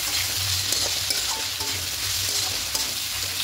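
A spoon scraping and stirring ground coriander, cumin, turmeric and salt in a sizzling frying pan while cooking an okra and potato curry, a steady close hiss of frying with soft irregular scrapes.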